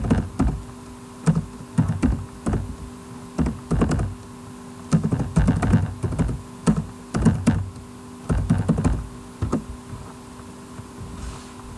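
Computer keyboard keys are typed in short bursts of rapid clicks separated by brief pauses, close and clear over a quiet background.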